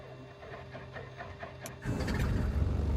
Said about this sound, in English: Right engine, good start.